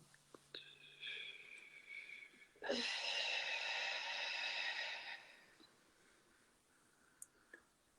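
A long, breathy exhale after a held breath during a guided breathwork session: a broad airy rush lasting a few seconds, close and fairly loud, following soft breathing and a faint low hum, then fading to quiet.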